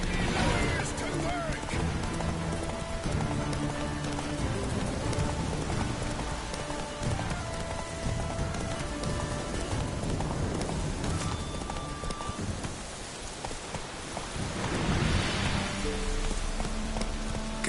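Hooves of a galloping horse in The Witcher 3 thud rhythmically under a steady rain-like wash of game sound, with a voice speaking over it.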